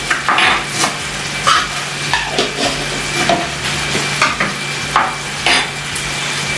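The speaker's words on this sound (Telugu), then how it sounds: "ఇవి బాగా మిక్స్ చేసేసుకుందాం." Spices and chopped coriander stirred in a frying pan, with a steady sizzle beneath repeated scraping strokes of a spoon against the pan, close and fairly loud.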